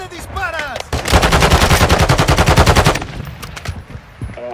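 Sustained automatic gunfire in Call of Duty: Warzone 2.0, a loud rapid burst lasting about two seconds, with speech heard briefly before and after it.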